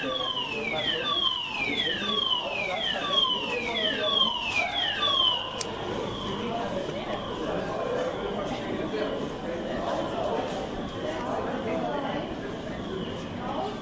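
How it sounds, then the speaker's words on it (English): A building fire alarm siren from an anti-fire bell alarm system in Batam sweeps downward repeatedly in quick cycles at first. It then continues as a loud, steady wail over background noise. "This is a fire alarm."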